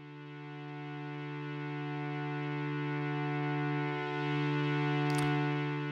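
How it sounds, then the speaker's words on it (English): Ambient pad patch on the Arturia Pigments synth with loop fade on, a smooth sustained drone with steady tonal layers swelling gently, quiet and alone apart from one brief click near the end. "I've also switched on the loop fade. This means that it's going to sound smooth when it loops around."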